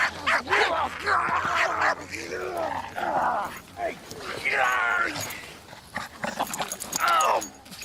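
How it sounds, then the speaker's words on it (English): A dog yips and barks amid a tense, crowded scene, with several people talking and shouting over the animal at close range. "Get your dog off my knee"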